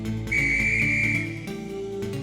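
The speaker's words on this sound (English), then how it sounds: "But the guard whistle blew" A single sustained railway guard's whistle blast, shrill and steady for about a second, over a low rumbling musical background.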